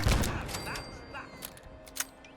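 Rapid gunfire from baseball-launching weapons in Fallout 4, a burst of loud shots up close that thins into scattered sharper cracks, with faint game ambience underneath.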